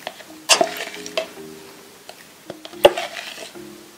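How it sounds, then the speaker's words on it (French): A spoon stirs a thick homemade hair paste in a bowl, giving a few sharp clinks against the side along with soft, wet scraping between them, close and with no talking. "Et je remue."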